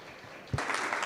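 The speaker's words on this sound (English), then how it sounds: "ask for a round of applause for this panel" A conference audience starts applauding a panel after a soft thud, and the clapping swells to a moderate, steady level that continues to the end.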